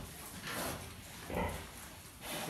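Large White breed pig grunting on a farm, three low muffled grunts spaced about a second apart, fairly faint against a steady hiss of background noise.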